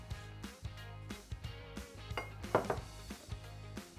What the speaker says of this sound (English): we're just going to add in all of these strawberry slices